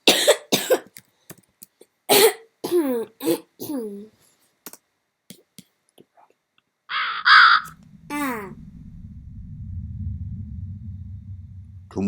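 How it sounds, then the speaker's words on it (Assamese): Crow caws from a recorded sample played back in Sonic Pi: a few loud, harsh calls ring out after a run of short clipped electronic bursts, then give way to a low, steady droning loop. "ধুমুহাৰ নিশা কাউৰীৰ মাত"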